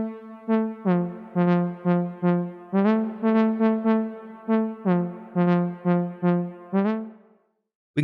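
Akai APC64 step sequencer playing back a programmed note sequence: a steady run of about a dozen evenly spaced synth notes with rich harmonics, moving between two pitches in a repeating pattern, then stopping abruptly near the end.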